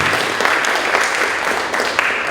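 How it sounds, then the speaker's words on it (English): An audience at a National Junior Honor Society induction ceremony gives a steady, dense round of applause, many hands clapping together throughout. "Round of applause."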